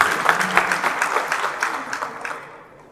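An audience at a university library inauguration of the Faculty of Letters applauds, a thick burst of clapping that holds steady and then fades toward the end.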